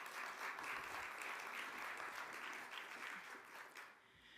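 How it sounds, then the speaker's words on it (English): A university audience at a Rutgers–New Brunswick panel showcase applauds a moderator walking to the stage, with even, sustained clapping that fades out near the end. "Let's give him a round of applause as he comes."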